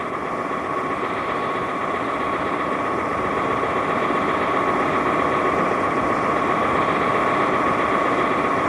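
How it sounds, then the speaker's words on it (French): A continuous mechanical drone like an engine running, steady and fairly loud with a buzzing hum and no pauses. "un bruit de moteur, carrément."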